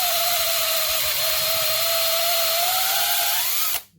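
A power tool, likely a small rotary cutter, grinds steadily through a sand-packed electric car fuse, a loud continuous whine with a slowly rising pitch that cuts off abruptly near the end.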